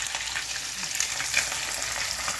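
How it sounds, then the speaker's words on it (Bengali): Pieces of rohu fish fry in hot oil with a dense, continuous crackling sizzle, close and steady throughout. "এবার মাছটা ভাজা হোক"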